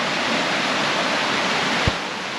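A river in full flood after heavy rain, a steady broadband roar of rushing water that fills the whole clip, with one brief low thump near the end.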